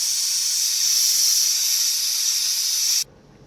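A steady, loud aerosol hiss of clear fire enamel spraying in a thin coat runs unbroken for about three seconds, then cuts off abruptly into near silence.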